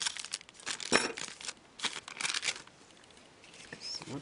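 A foil pack of KHL hockey cards is torn open with sharp crinkling and ripping bursts, close and fairly quiet, in short irregular spurts with pauses between.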